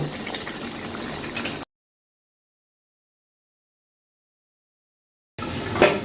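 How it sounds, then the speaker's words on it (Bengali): Spicy beef simmering covered in a pot, a steady bubbling boil heard in two short bursts separated by a stretch of silence, with a brief rattle of the lid near the end. "একটা ঢাকনা দিয়ে ঢেকে দেব এবং ঢেকে ঢেকে মাংসটা আমি কষিয়ে নেব"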